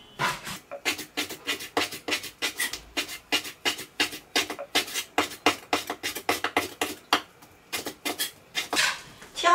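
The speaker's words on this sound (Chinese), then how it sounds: "下面把牛肉给它切成块儿。" A knife chops raw beef into chunks for a homemade beef chili sauce. Steady, rapid knocks on a cutting board repeat for several seconds, close and crisp, with no voices.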